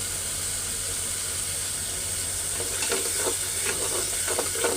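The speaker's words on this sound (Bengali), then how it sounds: "তো এখন একটু হালকা আদা রসুন বাটা আর মরিচ বাটাটা দিয়ে দিব" Ginger-garlic and chili paste fry with onion in hot oil, a steady close sizzle and hiss, with scraping stirs picking up in the last couple of seconds.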